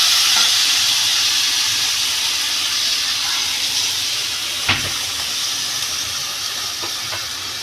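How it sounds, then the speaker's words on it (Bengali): Gravy poured over potatoes and green banana frying in a pan for a Bengali boal fish curry gives a steady loud hiss of steam and sizzle, with a brief sharp splash partway through. "আমি এবার ঝোল দিয়ে দেবো।"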